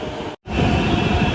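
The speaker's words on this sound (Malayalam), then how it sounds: "ആ ഒരു മെട്രോ വരുന്നുണ്ടല്ലോ, നമുക്ക് പോകാനുള്ളതല്ല" A Hyderabad metro train rolls into a station with a steady loud rumble, briefly interrupted by a split-second dropout before the sound continues.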